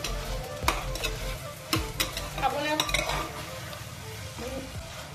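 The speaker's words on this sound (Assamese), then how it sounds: "এতিয়া অকণমান লৰাই দিম।" Duck meat stirred with crushed ginger and garlic in a hot pan, a close sizzle with repeated scrapes and clinks of a metal spoon against the pan in uneven bursts.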